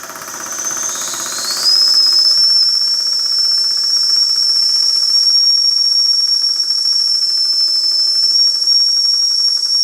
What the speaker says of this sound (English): Let some of the pressure out.